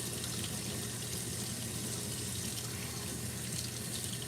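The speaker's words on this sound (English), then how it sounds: "So I'm going to run a little water over them. Not hot water." Tap water runs steadily over frozen meat in a kitchen, a constant moderate hiss with no talk.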